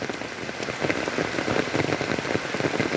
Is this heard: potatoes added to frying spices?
no